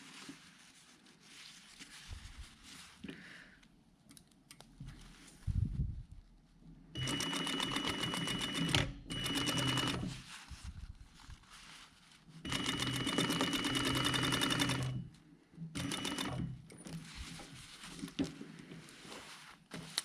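Sewing machine stitching a jacket lining seam in several bursts of rapid, even mechanical stitching, separated by quiet pauses and small handling noises.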